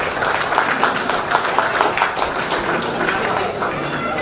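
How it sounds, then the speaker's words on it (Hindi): A dense, continuous wash of audience applause welcomes a poet at an Eid Milan mushaira and kavi sammelan in Balasore, loud and even throughout with no talk over it. "तालियों से स्वागत कीजिए।"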